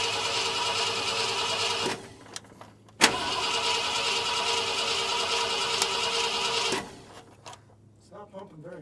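Engine of a 1972 Ford F250 with a rebuilt carburetor and new fuel pump cranking in two long whirring bursts, with clicks between them and voices talking after the cranking stops.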